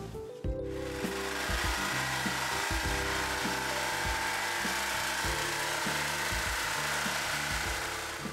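A power tool cuts a metal backsplash panel along a marked line, a steady close whine with a continuous rasping grind and slight pitch wavers, with no voices.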